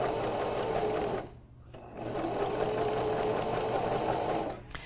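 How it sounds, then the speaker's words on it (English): Sewing machine stitching pleating tape onto curtain fabric, a steady close whirring drone that briefly cuts out for a moment mid-run, then resumes and stops near the end. "So I'm going to continue sewing"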